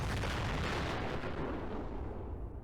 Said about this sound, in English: tossed a frag, and it was all over.